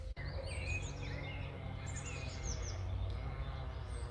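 Several birds singing and chirping in a garden in the morning, high bright calls coming in short bursts, moderately distant, over a steady low rumble that could be grass mowing nearby. No one speaks.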